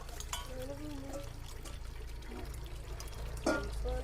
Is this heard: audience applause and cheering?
no